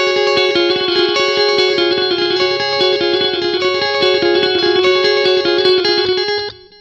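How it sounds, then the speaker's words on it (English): Electric guitar played through a TC Electronic Flashback X4 delay looper pedal, sustained chords and picked notes washed in repeating echoes and ambience, loud and continuous for about six seconds before cutting off. "Here's the Flashback X4."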